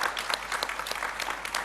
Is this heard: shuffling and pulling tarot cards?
no